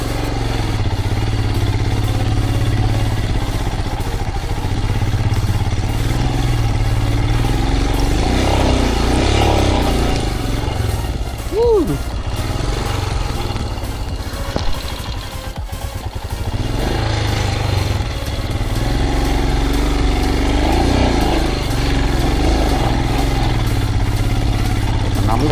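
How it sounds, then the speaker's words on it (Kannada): A motorcycle labors up a steep hill road toward a hilltop temple near Kanakapura, its engine droning loud and unbroken while riders talk over it. "ನಮ್ಮ ಗಾಡಿ ಹೆಂಗೆ ಒದ್ದಾಡ್ತಾ ಇದೆ"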